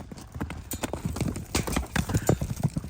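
Horses led across a pasture to join the herd, their hooves producing steady, fairly close clip-clop steps with an irregular walking rhythm, joined by an occasional faint whinny and low background noise.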